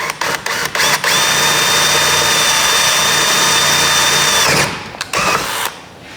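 A power drill bores a 1/4 inch hole in a tight space during installation of a bow motorization kit, running steadily at low speed for about three seconds after a few short trigger bursts, with another brief burst at the end.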